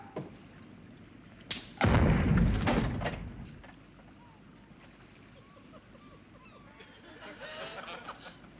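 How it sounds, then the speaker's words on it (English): A ship's cannon fires in a comedy sketch, a sudden loud boom that rumbles and decays over about a second, followed by a quieter windy background. "Number 1 cannon, fire!"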